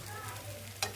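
Patra being tempered with sesame seeds and neem leaves in hot oil, giving a steady low sizzle and frying hiss with a brief louder stir or clatter near the end, with no one talking.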